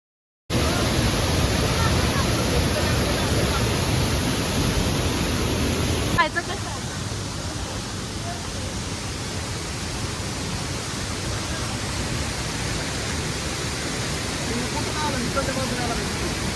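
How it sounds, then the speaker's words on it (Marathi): Waterfall near Gupt Bhima at Bhimashankar in a forest setting, a loud, constant broadband roar of falling water that never lets up, shifting slightly in tone partway through. "या ठिकाणचे पूर्ण वातावरण कोसळणाऱ्या धबधब्याने आणि आजूबाजूच्या जंगलातील पक्ष्यांच्या आवाजाने जिवंत होते"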